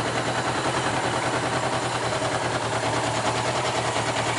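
Restored 1979 Suzuki GS1000E motorcycle with worn plug wires and a small oil leak, idling close by; a steady, even engine rumble with a fast regular pulse runs without a break.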